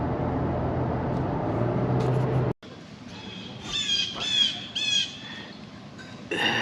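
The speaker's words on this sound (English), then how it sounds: "as I go to record, there's a blue jay chirping along above me" A blue jay chirps and squawks overhead outdoors in a series of harsh, repeated calls over a steady background rumble, clear but moderately distant.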